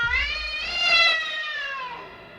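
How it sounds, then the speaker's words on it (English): A single drawn-out cat meow, rising then falling in pitch, clear and fairly close, with no other sounds around it. "A cat. As big as a tiger."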